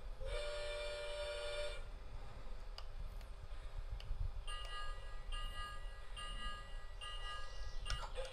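A Lionel LionChief Plus 2.0 462 Pacific model steam engine runs on a garage 4x8 layout, giving a steady mechanical rumble and hiss with bursts of chuffing and whistle-like tones that keep going throughout, no talking.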